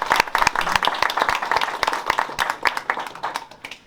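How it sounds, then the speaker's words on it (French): An audience at an exhibition opening in a hall applauds, many close, crisp hand claps at a fast uneven rhythm forming loud, continuous applause for about four seconds with no speech over it. "On peut l'applaudir. Et on peut l'applaudir."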